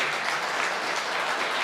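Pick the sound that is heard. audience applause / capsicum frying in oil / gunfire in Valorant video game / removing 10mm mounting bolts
audience applause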